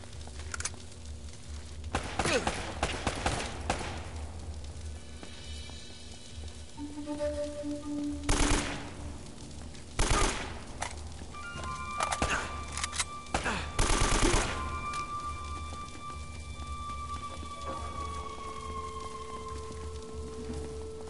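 Bursts of automatic gunfire and single shots ring out in an Uncharted: Drake's Fortune firefight, arriving in sharp clusters over a steady rumbling game backdrop, with quieter gaps between volleys.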